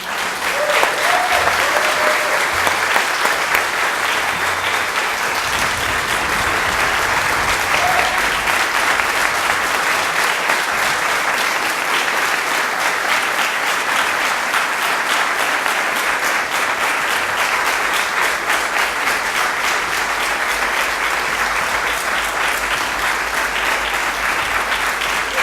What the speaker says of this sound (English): please give him a special round of applause